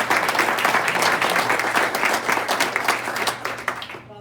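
Audience applause at a community meeting, dense and sustained from the start, then thinning and breaking off abruptly near the end.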